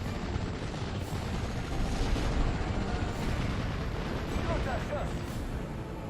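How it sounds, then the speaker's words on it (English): Artillery shells land in the World War II strategy game Steel Division: Normandy 44 as a continuous low, rumbling barrage, with booms blending into a dense, distant roar. Someone narrates over it throughout. "my Flak 41 in the hill there is now under fire from 2 artillery pieces"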